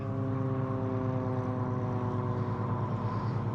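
A propeller plane passes overhead at a remote campsite, its steady droning hum with stacked engine harmonics holding loud and constant throughout, no voices over it.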